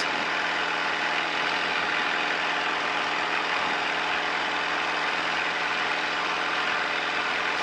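A light aircraft engine drones loud and constant at full power during the takeoff roll, a dense steady roar with no break, heard from inside the cabin.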